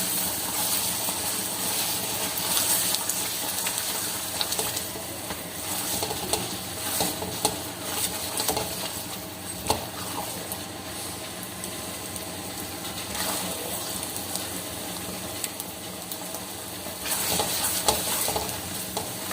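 Sarson ka saag fried and stirred in a pan with green coriander, a continuous loud sizzle under repeated scraping and clinking of a spoon against the metal, with occasional sharper knocks throughout.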